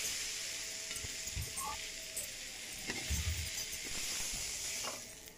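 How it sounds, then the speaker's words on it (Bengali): Papaya pieces sizzle as they fry in a little leftover fish oil with salt, a steady close crackling hiss with occasional stirring scrapes and clinks of a utensil against the pan. "যে তেলটা ছিল মাছের ওই তেলটাতে আমি একটু লবণ দিয়ে ভেজে নিচ্ছি।"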